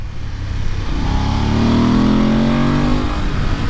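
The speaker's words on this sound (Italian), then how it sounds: "e il motore da 95 cavalli spinge veramente tanto" A BMW F 850 GS motorcycle with a 95-horsepower engine accelerates hard after a gear change, its engine note rising steadily in pitch as it revs up. The sound is loud and continuous, close to the bike, with no talking.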